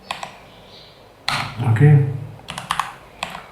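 Computer keyboard clatter while typing code, brief bursts of fast clicks at the start and end, close and clear, with someone talking briefly in Hindi between them.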